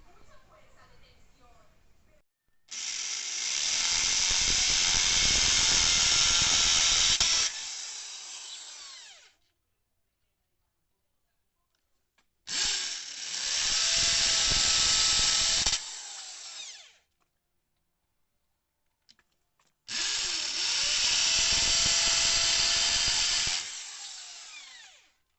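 A drill press bores holes in wooden window shutter profiles in three loud, steady whining runs of several seconds each. Brief quiet gaps fall between the runs.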